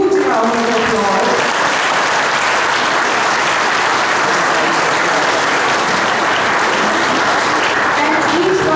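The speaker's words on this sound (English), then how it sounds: "So please give them a huge round of applause." Sustained audience applause at a school or college event for a group of girl students, a broad, steady wash of clapping filling the hall throughout with no break, loud and continuous.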